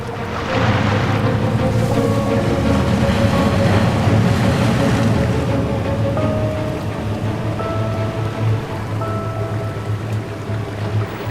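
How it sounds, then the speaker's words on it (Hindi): A boat engine starts and runs steadily on open water in a dinosaur action movie, a loud continuous droning rumble that holds through the whole stretch amid splashing, wind-like noise. "इंजन शुरू करो।"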